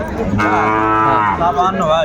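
A single loud, drawn-out moo from a Sahiwal bull calf at a cattle market, close by, with faint crowd murmur underneath.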